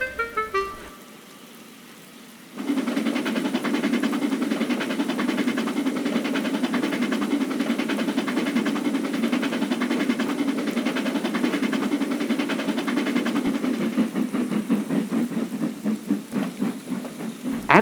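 A cartoon train engine rumbles in after a brief quiet moment, its engine chugging steadily and loudly for the rest of the clip, with rhythmic clacking toward the end.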